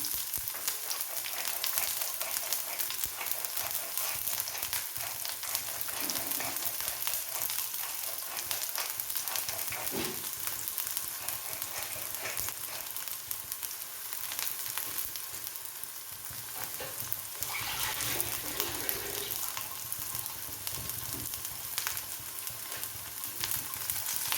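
Onions sizzle and crackle steadily in hot oil after popped mustard seeds, a loud, continuous frying hiss with no voices.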